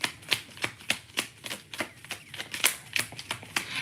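Tarot cards are riffled and shuffled close up in quick, regular bursts of papery snapping, about a dozen crisp flicks in a few seconds.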